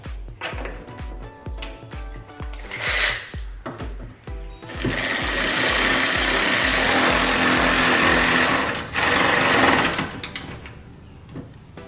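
A rattling power tool, likely an impact driver, drives two 10mm bolts back in while reinstalling a headlight, first in a fast stuttering hammer of clicks and then in a long steady buzzing run, loud and close.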